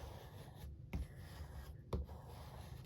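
Paper is pressed into a crisp fold for a lattice easel card, with quiet close rubbing and two sharp creasing swipes about a second apart.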